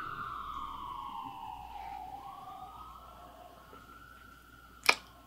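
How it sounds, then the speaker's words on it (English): An emergency vehicle siren wails along a residential street, its pitch sweeping down and then holding steady as it fades a little, ending with a single sharp click. "Do you hear those sirens?"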